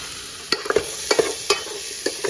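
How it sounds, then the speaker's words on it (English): Onions seasoned with black pepper and salt fry in a pan with a bright, close sizzle, punctuated by several quick spatula scrapes and clicks. "I'm gonna let that fry."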